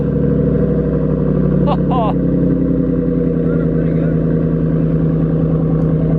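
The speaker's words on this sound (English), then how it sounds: "Man, I love the sound of this car" A Ram 1500 pickup engine idles steadily and loudly up close, a constant low rumbling hum throughout.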